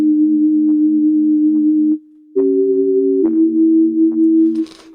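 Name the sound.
wub bass synth in Massive with tremolo processing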